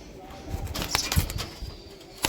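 A teddy male pigeon, a high-flying Pakistani bird, beats its wings in a quick, brief flurry as it is let go, close and sharp with murmuring in the background.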